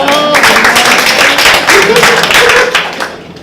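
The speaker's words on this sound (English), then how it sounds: "Give him a big round of applause again." A small audience at a Toastmasters meeting applauds after an icebreaker speech, a close burst of hand clapping with distinct individual claps that tapers off toward the end, while someone talks over it.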